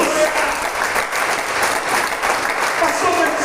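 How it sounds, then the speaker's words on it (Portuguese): A congregation at a Sunday celebration church service claps together in a thick, continuous wash of applause, sustained and fairly loud throughout. "Dá uma salva de palmas para o Senhor Jesus."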